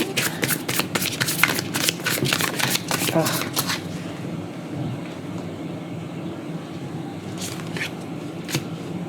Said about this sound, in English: Now I can keep shuffling.